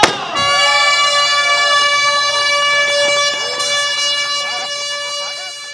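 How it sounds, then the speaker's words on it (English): A loud, sustained air horn blast sounds at once and holds steady for several seconds, slowly fading at the end. "I gotta have more air horn."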